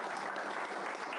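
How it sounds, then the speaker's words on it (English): A burst of continuous clapping from an audience, dense and steady, heard from a slight distance with no voices. "And I want everyone to give Michael a massive round of applause."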